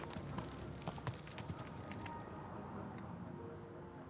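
Video game horse walking with rhythmic hoof clip-clops, fairly close, over a steady low background rumble, with a few sharper knocks near the start.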